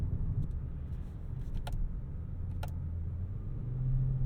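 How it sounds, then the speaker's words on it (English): A Kia K4 GT-Line turbo hatchback in sport mode gives off a low, steady engine grumble from inside the cabin, with a few faint clicks on top and the rumble swelling slightly toward the end. "It's got a nice low kind of grumble to it."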